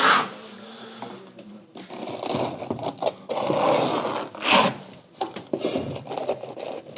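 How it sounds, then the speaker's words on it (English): A paint-mixer paddle on a drill churns microcement in a bucket, producing a rough, whirring scrape that rises and falls in bursts with brief pauses between them, close and fairly loud, with no talking. "I have a shitty mixer. I have like a paint mixer in there."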